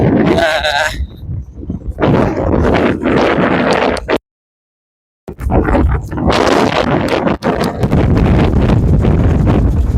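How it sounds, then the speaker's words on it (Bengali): Heavy wind buffets the microphone in a loud, continuous roar, cutting out briefly midway before returning just as strong. "হাওয়া খুবই তেজ"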